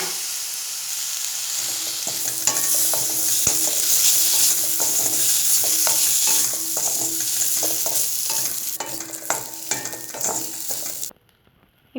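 Tomato and green chilli sizzle and fry in a pan for coriander chutney, a steady close hiss with regular scraping stirs and spoon taps, ending in sudden silence.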